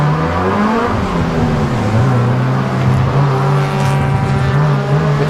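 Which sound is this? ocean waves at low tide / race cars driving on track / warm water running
race cars driving on track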